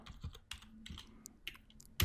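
Someone types a git command on a computer keyboard, a quick irregular run of close, soft key clicks ending with a firmer tap.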